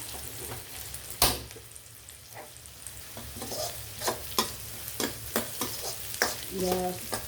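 Onions sautéing in a pan for an egg dish, with a low steady sizzle and repeated scraping stirs of a spoon against the pan, plus one sharp knock near the start.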